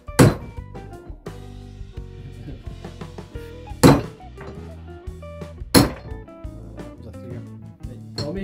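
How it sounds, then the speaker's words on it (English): Wheel studs are hammered out of a Toyota MR2 hub with three loud, sharp metallic strikes spaced a few seconds apart, amid clinks and people talking in a workshop. "these studs are going to get hammered out and replaced as well"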